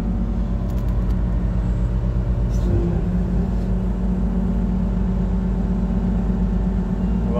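The heavy diesel engine of a Tadano 35-tonne mobile crane rumbles loudly nearby, its pitch climbing partway through as the revs rise and then hold at a steady drone.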